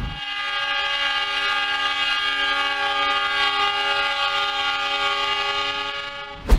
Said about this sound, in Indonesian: Kereta barang yang satu ini juga super panjang loh, jadi harus sabar banget nungguin keretanya habis.